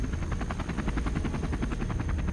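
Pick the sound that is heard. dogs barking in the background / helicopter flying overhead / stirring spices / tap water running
helicopter flying overhead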